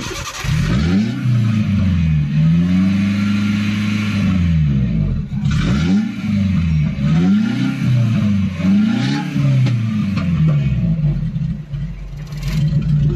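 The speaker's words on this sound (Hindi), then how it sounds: "देख सकते हो उसका साउंड, साइलेंसर खुला हुआ है इसलिए।" A petrol Eeco pickup with an open silencer, starting trouble, a catalytic converter problem and fault codes P0130, P0133 and P0171 runs loud and close, its deep engine note rising and falling in repeated revs over a steady rumble, with no talking.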